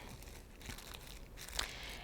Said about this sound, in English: you're going to take your clay ball and put it inside of a little resealable plastic bag